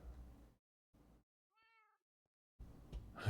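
A cat meows once in a Minecraft game, a short, clear, quiet call in a gap of silence, set between bursts of noisy background.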